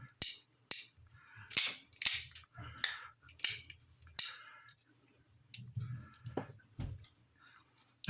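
A single-action six-shot .22 LR revolver, a series of faint sharp cracks and clicks at an uneven pace with quiet gaps, heard alone at a distance.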